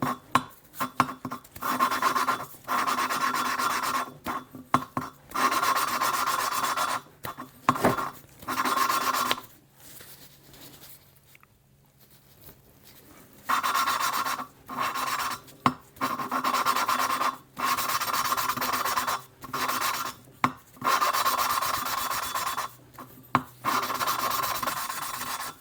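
A hand lapping tool twists back and forth against a small-block Chevy cylinder head valve seat, giving repeated gritty rasping strokes in short bursts with brief pauses and one longer gap, close and fairly loud.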